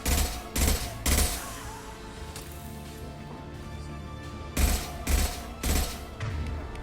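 Rifle gunfire in Mass Effect 2 comes in two rapid bursts of three punchy shots each, separated by a lull of quieter game ambience, loud and close.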